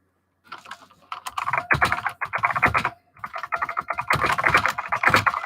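Quick typing on a computer keyboard, close up, in bursts of rapid clicking keystrokes separated by short pauses, with no talking.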